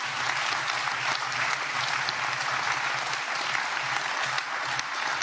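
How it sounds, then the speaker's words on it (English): A conference audience breaks into sustained applause at a closing session, a thick, even roar of clapping from a large crowd that continues steadily throughout, with no voices standing out. "that is a good reason to applaud all the people who helped us to organize this conference"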